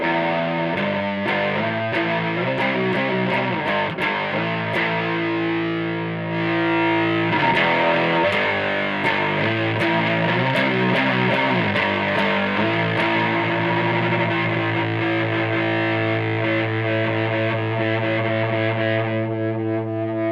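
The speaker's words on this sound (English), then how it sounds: "I want to go for like a low noise floor distortion sound" Heavily distorted electric guitar played through a NeXT amplifier, playing chords and riffs, loud and sustained with a thick, saturated tone throughout.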